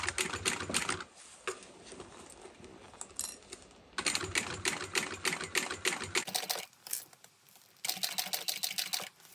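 A sewing machine bastes binding onto a mini backpack, running in steady rapid bursts of stitching separated by brief pauses, close and clear with no talking.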